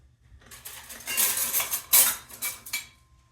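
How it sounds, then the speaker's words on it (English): Silverware clinks and clatters against dinner plates as a winter table is set, a quick run of sharp metallic taps and jingles with no talking. "Pardon the noise from the silverware that we're using."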